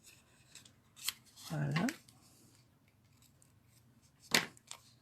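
Scissors snip off excess material while a homemade face mask is being assembled, two or three short crisp cuts with a longer rustling stroke between them, close and quiet, and a voice speaks briefly.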